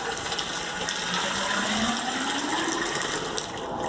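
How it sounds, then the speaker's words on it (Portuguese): Water drawn from an artesian well is poured back out in a continuous gushing splash, close and steady, with no voices. "eu vou despejar de volta para vocês verem a água que eu peguei do poço."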